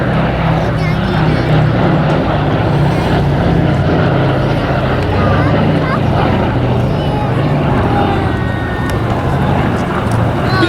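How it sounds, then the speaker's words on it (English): Boeing B-17G Sally B, a four-engined heavy bomber, flies past with a steady, loud, continuous piston-engine drone that holds level throughout, with no talk over it. "operating any historic aircraft is an expensive business, let alone a four-engined heavy bomber"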